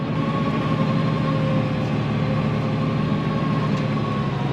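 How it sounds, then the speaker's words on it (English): A heavy tractor engine drones low and constant close by, labouring uphill while power harrowing, with a steady, rumbling tone and no break. "You'll start hearing the engine note as it starts to struggle on the hill."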